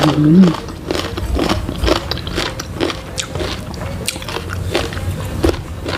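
Someone eating kimchi during a Korean-style meal with grilled pork belly, eating with crunchy bites and moist chewing up close while someone talks briefly over it.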